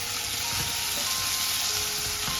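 Tomatoes sautéing in a pan with salt for crab rasam, a steady close sizzle and crackle of frying, with faint stirring and no talk.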